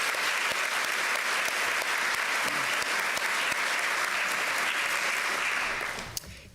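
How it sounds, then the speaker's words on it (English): An audience at an eighth grade recognition ceremony gives a sustained round of applause, dense and steady, tapering off near the end with a final clap. "Let's give them one final round of applause for their leadership."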